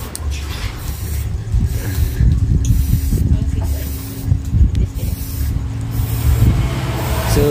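Intermittent hissing bursts of pressurized spray with low rumbling mechanical noise and a droning hum underneath.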